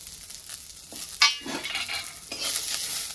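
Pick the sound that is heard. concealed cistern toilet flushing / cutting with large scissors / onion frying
onion frying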